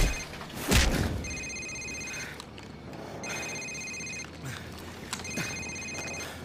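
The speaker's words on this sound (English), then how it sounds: "Sir, it's his cell phone." A cell phone rings in Call of Duty 4, three bursts of an electronic ringtone separated by pauses, heard against game sound effects and ambience.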